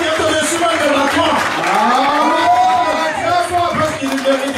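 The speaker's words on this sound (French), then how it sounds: "On acclame Jésus. On acclame le roi." A church congregation at a Pentecost service cheers and acclaims Jesus, a loud sustained crowd of overlapping voices and whoops, close and continuous throughout.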